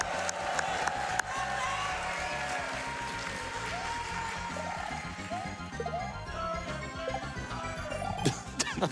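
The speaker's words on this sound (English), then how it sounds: "Let's hear it, crowd. Come on, let's cheer them on." A live crowd at a Super Mario World Kaizo relay speedrun event applauds and cheers continuously, a broad wash of clapping with scattered whoops and a few sharp claps standing out.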